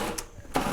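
A food processor pulsing walnuts for plant-based ricotta, two short whirring bursts close up, a brief one and then a longer one, with no talk.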